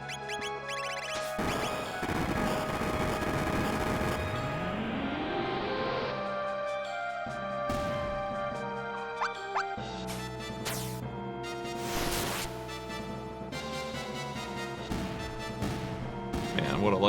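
A Mega Bomb attack in the Chrono Trigger game, with a rising synthesized sweep followed by a series of crashing blasts and bright effect hits over game music, and a voice talking at moments.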